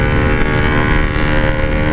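A Yamaha RX King 147 motorcycle engine idles close by at night, a loud, steady, throbbing two-stroke burble with no voices over it.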